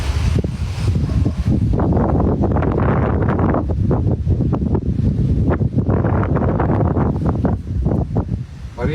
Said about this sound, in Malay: makin kuat ni